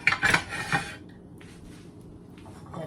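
A small pot scraped and slid across a home kitchen stovetop, a close grating rub in the first second, then quieter shuffling and faint clatter.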